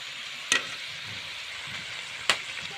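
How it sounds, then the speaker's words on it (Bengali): Singaras deep-fry in a pan of hot cooking oil over a medium-low flame, giving a steady, fairly soft bubbling sizzle with two brief sharp spikes of crackle standing out. "প্যানেতে আমি কিছু পরিমাণে রান্না তেল দিয়ে দিব সিঙ্গারগুলো ভাজার জন্য"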